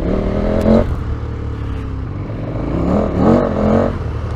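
A KTM 1290 Super Adventure S motorcycle engine revs hard and loud from the rider's position, bouncing off the rev limiter in two surging bursts with a steadier drone between them.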